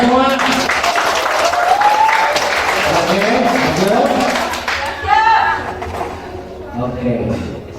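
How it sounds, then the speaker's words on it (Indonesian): Audience applause at an indoor business seminar in Bandung, a sustained wash of clapping filling the room under an amplified voice, with brief cheers rising near the end. "Aplaus untuk semua."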